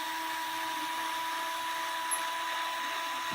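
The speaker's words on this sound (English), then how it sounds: "We'll take our drill and drill the hole" A power drill bores a hole in a Fender Squier Mustang guitar body, making a steady high whine with a constant hum under it and a faint click partway through.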